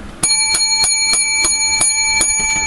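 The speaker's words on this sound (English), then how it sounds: "Seven lucky bells" Bright metallic bells strike repeatedly in a quick, fairly regular series, loud and close, each ring sustaining a clear tone, with no voices over them.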